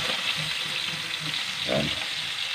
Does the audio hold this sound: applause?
no